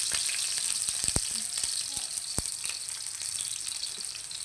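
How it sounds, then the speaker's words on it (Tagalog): Onion dropped into hot oil in a pan for a shrimp and cauliflower stir-fry sizzles with a bright, steady hiss, broken by a few sharp pops and spatters. "Yan lalagyan natin ng mantika. Yan lalagay na natin yung ating sibuyas."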